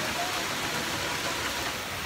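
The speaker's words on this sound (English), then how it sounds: "it is currently pouring rain and very dark" Heavy rain pours steadily at a campsite at night, a dense, even hiss of drops on the tent and ground that continues without a break.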